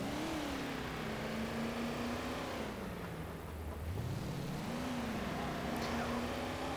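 A 2012 Range Rover in the City Car Driving game revs hard while driving off-road over grass and dirt, a deep, loud, steady engine roar rising and falling in pitch, with a short dip in the middle before climbing again.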